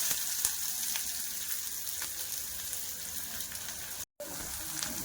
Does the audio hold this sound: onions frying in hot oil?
yes